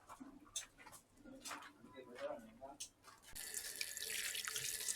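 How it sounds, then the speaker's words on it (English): A watermelon is washed under a running kitchen tap, with quiet splashing and handling at first, then a steady rush of water taking over in the last seconds. "I'm going to wash my melon."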